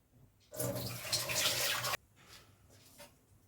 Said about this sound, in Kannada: ಬದನೆಕಾಯಿಯನ್ನು ಚೆನ್ನಾಗಿ ಇನ್ನೊಂದು ರೌಂಡ್ ಹೀಗೆ ಹೆಚ್ಚಿದ ಹೋಳನ್ನು ತೊಳೆದು ಬೇಯಕ್ಕೆ ಇಟ್ಬಿಡ್ತೀನಿ